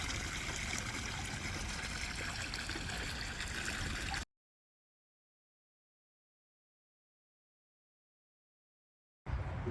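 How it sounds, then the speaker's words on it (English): Water from an artesian well trickles and runs steadily at close range, a continuous gurgling flow for about four seconds before cutting off, then briefly returning. "Delicious artesian well."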